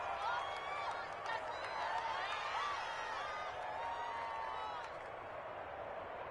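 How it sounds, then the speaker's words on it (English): Crowd cheering and roaring in a Madden 21 American football game as a big third-down play approaches, a dense sustained stadium noise with whoops and clapping, partly under commentary. "the crowd getting into it as we come up on a big 3rd down"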